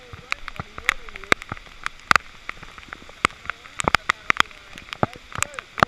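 Rain falls during a river rafting trip on the Nantahala, with scattered sharp drips and drops ticking irregularly on a surface close by, over a soft wash of ambient noise and intermittent talk.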